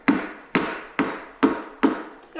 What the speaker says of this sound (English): See if I can use this plastic hammer kind of as a spacer in between there. Tap a little bit.